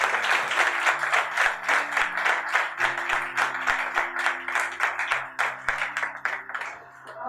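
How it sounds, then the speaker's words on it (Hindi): A congregation at a church service breaks into loud, sustained applause. Dense rhythmic clapping carries on for about seven seconds and then tapers off near the end. "जोरदार तालियां बजाइए"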